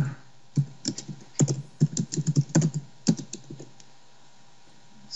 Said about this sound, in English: Someone's typing.